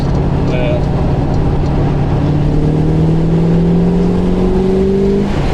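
A classic car with a brand-new engine runs loudly at a car meet, its steady drone rising smoothly in pitch as it revs, with people talking over it.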